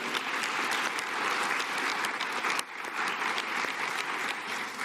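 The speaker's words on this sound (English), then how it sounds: "Give yourself a round of applause." A convention audience at a PTA annual gathering applauding steadily, a dense wash of clapping that dips briefly midway and then carries on at the same level.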